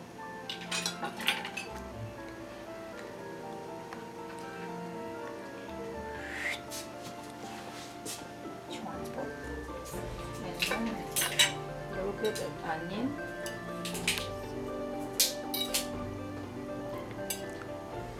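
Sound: cutting cooked beef liver with utensils on a plate

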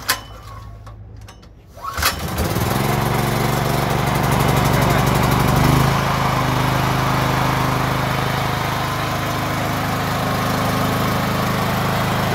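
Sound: Benza BX 6000 petrol generator starting and running

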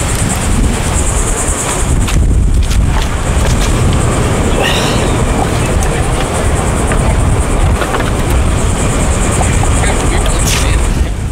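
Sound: strong wind at the beach

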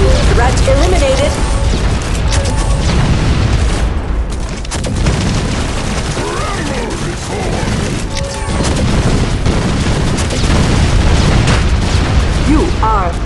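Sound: grenade explosion in a video game

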